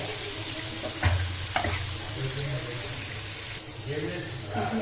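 Paneer sizzles as it fries in hot oil in a pan, a steady soft crackle with a couple of clinks, while someone talks over it.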